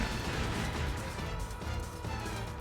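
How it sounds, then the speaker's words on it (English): Rapid Vulcan cannon fire in Sonic 06, a dense, rumbling burst of gunfire mixed with crashing game noise, loud and continuous for a few seconds with no talking. "I know he's firing missiles, but I hear Vulcan cannon."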